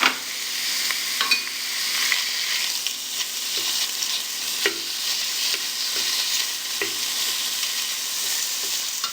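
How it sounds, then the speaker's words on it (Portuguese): Ground meat frying in hot olive oil for homemade gyoza filling, a dense, constant close sizzle with small scattered pops and scrapes of stirring throughout, no voices. "Depois que esquentou um pouquinho o óleo, eu coloco a carne. Agora eu vou fritar a carne."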